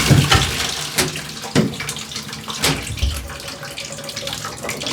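A hose sprays water to soak everything during a field cleanout, a loud continuous rushing hiss close by with a few sharper splashes as the stream hits surfaces.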